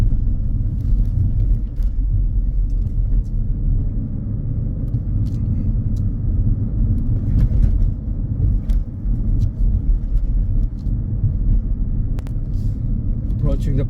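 Steady low engine and road rumble from a car driving straight ahead through traffic lights on a Huddersfield driving test route, continuous and even throughout.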